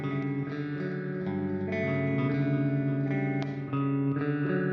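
A clean electric guitar riff played through a small amp tone sounds continuously in sustained, chiming notes with some effects coloring, loud and alone with no voices.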